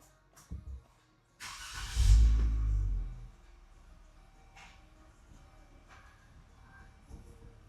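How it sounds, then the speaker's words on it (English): Jeep Wrangler JL switched off and restarted, a few clicks followed by a brief starter whir and engine catching into a short rumble that settles to a quiet idle, heard close inside the vehicle. "Now we're going to turn off the vehicle and turn it back on to show you that it's been cleared."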